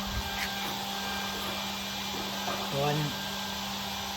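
A Webasto Airtop 2000 diesel heater's fan runs inside a Citroen Ami, giving a steady, airy whir with a low hum beneath it, and a voice speaks briefly.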